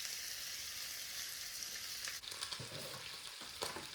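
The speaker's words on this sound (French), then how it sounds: "Je vais laisser l'huile bien chauffer, puis je vais venir rajouter 450 g de viande à l'intérieur." Ground beef, 450 g, sizzles and fries in hot rapeseed oil in a pan, a steady loud crackling hiss throughout with a few brief stirring scrapes near the end, no voices.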